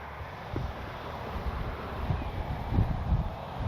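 Wind blowing across an RC model airfield on a cloudy, overcast day, a steady low rumble and rush of wind noise on the microphone that swells slightly in gusts, with no voices.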